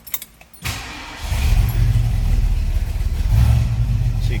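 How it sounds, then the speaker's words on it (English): A 1971 Ford Torino turns over and fires up, settling into a loud, steady idle with a deep rumble that rises slightly near the end; a brief faint jingle comes before the start. "Let's go ahead and fire this up so you can hear it."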